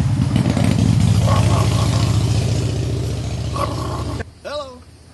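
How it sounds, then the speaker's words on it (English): A motorcycle roars past close by, its loud engine note fading over about four seconds, and then a voice briefly speaks as it goes. "Hello, motorcycle."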